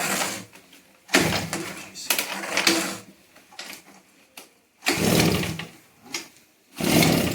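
A Craftsman 46cc backpack leaf blower (490 cfm) is pull-started with the throttle at 40%, giving several loud, rough bursts of cord rattle and brief engine sputter separated by short pauses, with no steady running.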